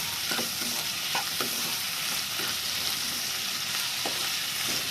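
Ginger paste fries in a pan for an egg curry, a constant loud sizzle broken by several spaced scrapes and knocks of a spoon stirring, heard up close with no speech.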